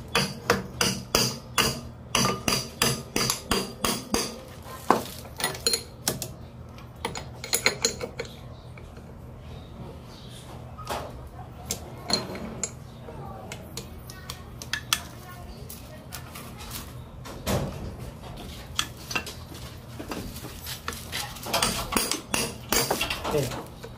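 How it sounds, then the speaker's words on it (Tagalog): A manual impact wrench is struck repeatedly to loosen a bolt on the CVT of a Yamaha Mio Soul i 125 scooter, giving a steady run of sharp metallic hammer blows that pause midway, then resume close and loud. "Ito yung manual impact wrench."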